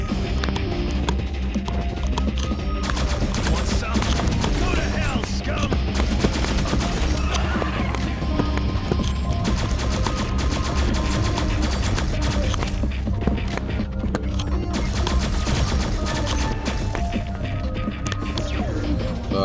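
Rapid bursts of gunfire from a newly picked-up gun in a video game, sustained and loud over a dense, busy game soundtrack with mechanical clatter for the whole stretch.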